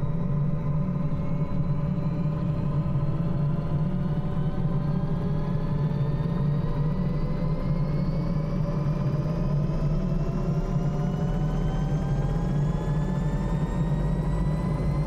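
A helicopter's rotors spin up in Microsoft Flight Simulator 2020, a steady engine drone with a whine that climbs slowly in pitch as the blades gain speed, continuous and loud with no talk.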